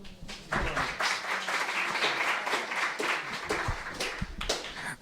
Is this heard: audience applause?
yes